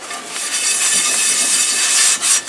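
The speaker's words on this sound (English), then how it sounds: "After that, I'm going to hit it with this sandpaper." Sandpaper scrubbing flash rust off a cast iron pan, a loud continuous close rasping scrape with a couple of brief breaks near the end.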